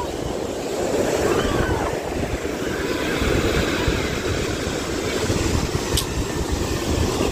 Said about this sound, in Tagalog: Laki ang alon.